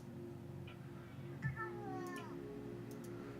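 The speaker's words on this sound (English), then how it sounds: "You can hear my cat." A displeased house cat gives a brief, faint meow partway through, heard over a steady electronic hum from a computer setup.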